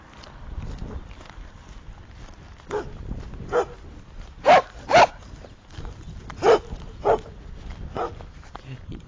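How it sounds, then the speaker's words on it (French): A dog barks several times at irregular intervals, moderately close, over low outdoor background noise. "Écoutez le chien."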